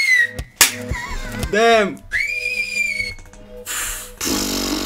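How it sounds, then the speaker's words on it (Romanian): A person whistles while house music is made from household objects; clear, sustained whistled tones rise and hold amid clattering object sounds, with a voice briefly exclaiming. "Tu îți dau un fluierat."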